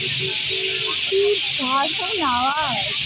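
Birds call in a series of rising and falling notes over a steady, high-pitched droning hiss that runs throughout.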